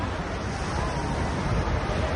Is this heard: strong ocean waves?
yes